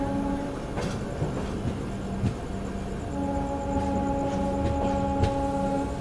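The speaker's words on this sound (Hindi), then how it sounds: "चलिए फ़िलहाल बदरपुर से अपनी गाड़ी का डिपार्चर हो चुका है।" The long Poorvottar Sampark Kranti passenger train, hauled by EMD diesel locomotives, running on rails after leaving Badarpur: a fairly quiet steady rolling rumble with faint humming tones and occasional wheel clicks and clatter, no talk.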